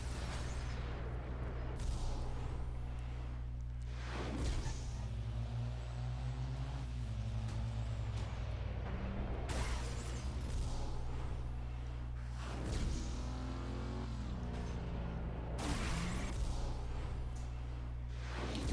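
A tanker truck blows up during a high-speed chase in Driver San Francisco, with heavy booming bursts rising over a steady engine drone and rushing road noise, repeating several times across the stretch.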